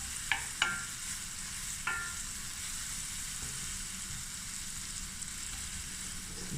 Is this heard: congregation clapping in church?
no